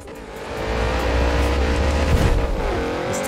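A Subaru driving in Forza Horizon 4, with its engine droning steadily and loudly, rising in pitch as it accelerates, and faint tire noise, with no talk.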